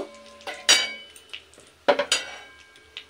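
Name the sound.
stirring whole cumin tempering in a pan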